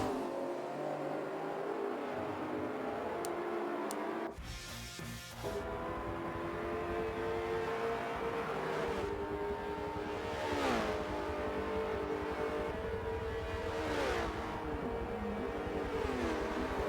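Porsche race cars in a sim racing game roar past, engines revving and shifting through gears with rising and falling pitch, loud and continuous, with a brief muffled dip partway through.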